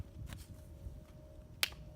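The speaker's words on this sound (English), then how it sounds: "Second clap." A single sharp film slate clap snaps out near the end of a quiet stretch, with faint low rumble and soft movement before it.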